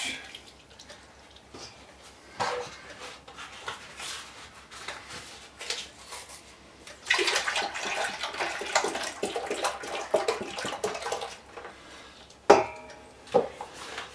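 Whole milk, three liters, pours into a pot, a soft liquid splash and trickle that swells louder midway, with a few clunks and knocks near the end.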